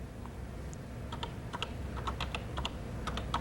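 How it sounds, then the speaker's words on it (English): A command is typed on a Color Computer keyboard, with a string of close, quiet key clicks in an irregular rhythm over a low steady hum. "followed by pressing the enter key"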